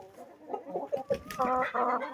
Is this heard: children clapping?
no